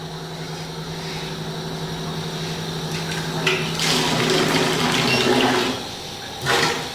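Water running and bubbling through a hydrogen water machine in a portable shop setup, a steady rushing flow with a low hum, swelling into louder gushing bursts partway through and again near the end.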